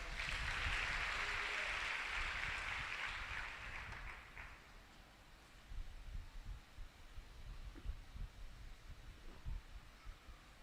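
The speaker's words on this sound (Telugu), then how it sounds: "చప్పట్లు ఒకసారి" A church congregation at a Telugu sermon in Guntur gives a burst of group applause that swells, then fades over about four seconds, followed by quieter room murmur and a voice.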